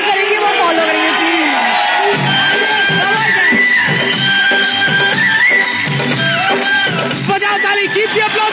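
A large crowd cheers, whoops and shouts loudly and continuously, with children's voices mixed into the dense din and people talking beneath it.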